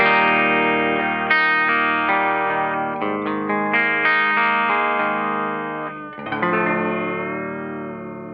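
Electric guitar played through a Seritone OTS Mini 20 amp with a single 12-inch Greenback speaker, its clean tone wobbling with a vibrato pedal as sustained chords ring and slowly decay, one fresh strum near the end, no voices.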